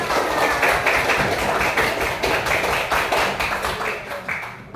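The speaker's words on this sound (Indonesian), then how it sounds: "Tepuk tangan untuk kita semua" Applause from a classroom of students, a dense, steady patter of many hands clapping together close by for nearly five seconds, tapering slightly at the end.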